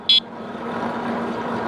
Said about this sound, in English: instead of a dinger ringer or a dinger bell, it's got an electronic bell.